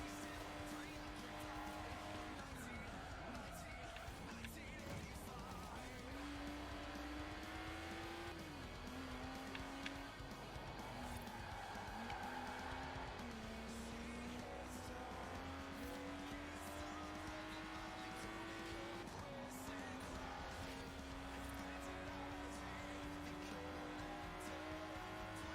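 A rear-wheel-drive car races in Forza Horizon 4, its engine droning and shifting pitch through gear changes, with tires squealing over a steady loud roar while someone talks throughout.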